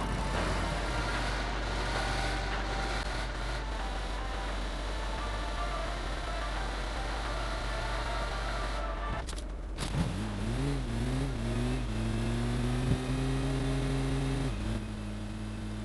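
Vehicle engine in a battle royale video game, a steady mid-pitched drone over game ambience that rises and revs up after a short break, holding a higher tone until the end.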